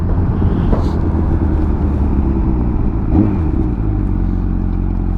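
A Honda CBR 1000RR sport bike's engine roars at high revs held in first gear, a loud, steady, dense drone with slight surges near the close.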